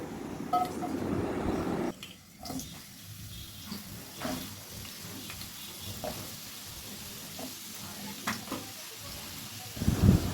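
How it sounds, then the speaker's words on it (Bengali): Potatoes fry in white oil in a wok, a steady low sizzle with occasional clinks and scrapes of a utensil stirring, and a louder crackling surge at the very end. "দিয়ে আলুগুলো ভেজে নেব"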